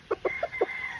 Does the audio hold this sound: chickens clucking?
yes